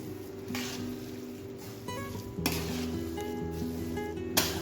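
Raw mango pickle mixture being mixed in a pot, with scraping spoon strokes and clinks against the vessel over a background hiss, close and moderately quiet, no voices.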